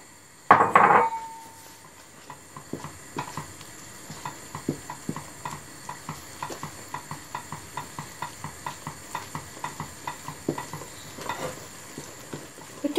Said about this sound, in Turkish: Kaynamaya başlayan su ile yağ karışımımızın içine unu da ilave ediyorum. Ve hızlı bir şekilde iyice karıştırıyorum.